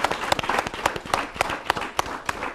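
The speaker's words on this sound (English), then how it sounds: "A round of applause for yourselves." Audience applause at a televised town hall panel for Nigeria's Independence Day, steady dense clapping from a live crowd filling the moment with sharp irregular claps, fairly close and loud, no talking.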